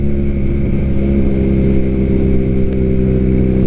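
A Harley or Triumph motorcycle engine runs steadily at a loud, close idle, a dense continuous rumble with no change in pace and no talking.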